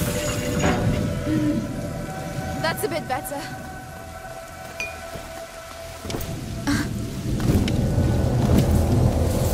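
A thunderstorm in the video game A Plague Tale: Innocence, with steady heavy rain and low rolling thunder that swells and fades, loud and continuous under game sounds.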